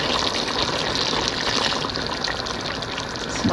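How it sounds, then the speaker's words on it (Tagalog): Water gushes steadily into a cooking pot of chicken and pork adobo, a continuous close, loud pour lasting a few seconds with no talk. "Lagyan ko ng konting tubig."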